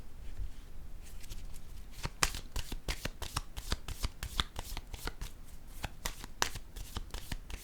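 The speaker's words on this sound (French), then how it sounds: "Je vais déposer une carte dans cette zone." Playing cards are handled during a card reading, giving a close, fast run of crisp flicking clicks like shuffling, with no voices.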